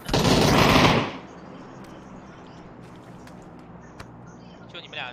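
A loud, rapid burst of rifle fire from an SKS in a shooter video game, close up and lasting about a second, then a low ambient hush with faint clicks and a voice speaking.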